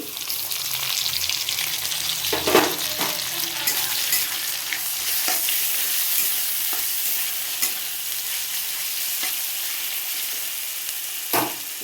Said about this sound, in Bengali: এখানে জিরে আদা রসুন পেঁয়াজ বাটা দিয়ে দিচ্ছি